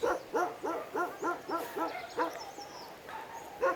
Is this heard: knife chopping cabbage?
no